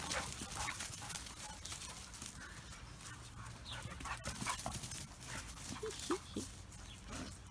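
A white Dogo Argentino pants quickly and rhythmically nearby, fairly quiet, with rustling movement and a few faint whimpers mixed in.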